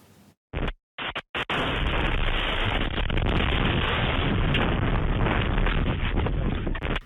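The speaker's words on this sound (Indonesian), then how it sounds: "Serangan tersebut memicu ledakan dan kebakaran hebat di kawasan permukiman." An Iranian missile strike in Kiryat Shmona, caught on a CCTV camera, breaks out in a few abrupt blasts, then settles into a sustained, loud, rumbling roar of noise that fills the rest of the stretch.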